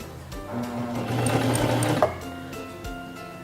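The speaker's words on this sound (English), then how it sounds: "press and hold the reverse lever, and sew backwards a few stitches" A Singer Talent 3323 portable sewing machine runs briefly in reverse to sew a few backward stitches, a close whirring and rapid mechanical clatter lasting about a second before stopping with a click.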